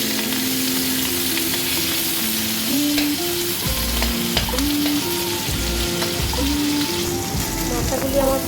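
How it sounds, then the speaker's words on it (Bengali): Fish heads rubbed with salt and turmeric sizzle in hot oil in a wok, a steady, crackling frying hiss that carries on throughout with a faint tonal sound in the background. "মাথাগুলি আমার ভাজা হয়ে গেছে।"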